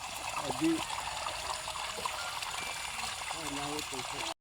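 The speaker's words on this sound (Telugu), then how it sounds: "అయితే చెరువులో ఉన్న వాటర్ మొత్తం కూడా ఇంకా గొట్టం నుంచి అయితే వెళ్ళిపోతుంది" Floodwater from a pond drains out through a pipe after continuous heavy rain, giving a steady, fairly faint trickling and gushing flow, with soft voices briefly audible underneath.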